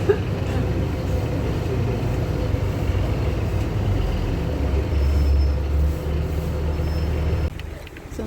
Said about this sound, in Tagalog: so ayan na yung aking bus